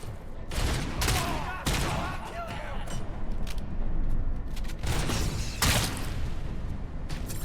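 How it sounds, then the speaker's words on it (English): Dense, sustained gunfire in RoboCop: Rogue City, with repeated bursts of bullets striking close around the player, loud and continuous, and occasional voices mixed into the barrage. "Oh god, I am actually getting shot to hell."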